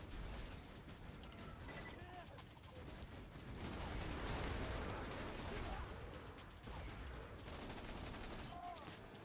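Dense, continuous gunfire and mechanical weapon clatter from the video game Borderlands 2, a quiet busy wash of rapid shots and clicks with talk faintly mixed in.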